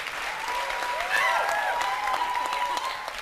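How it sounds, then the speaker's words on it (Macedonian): An audience applauds a soloist at a televised singing competition semifinal, a steady, dense wash of clapping from a large crowd that holds its level throughout, with a faint voice briefly audible beneath. "за Диме ве молам еден аплауз"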